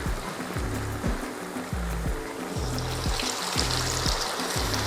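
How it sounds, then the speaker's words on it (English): Cassava (mogo) sticks frying in oil make a steady, dense sizzling hiss. A rhythmic low hum pulses underneath throughout. "then I'll fry the mogo"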